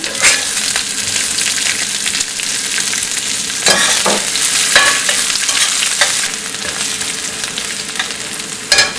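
Curry leaves and onion fry in a pan of oil for masala dosa filling, a loud continuous sizzle close by, broken by repeated scraping stirs of a spatula.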